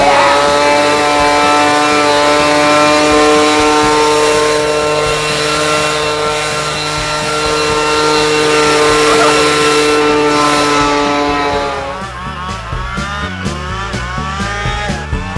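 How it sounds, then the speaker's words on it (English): A cartoon leaf blower roars with a steady, loud motor drone that holds its pitch for about twelve seconds, then breaks into a sputtering, revving burst near the end; no one speaks. "A leaf blower. Yeah, this is gonna blow away all the leaves."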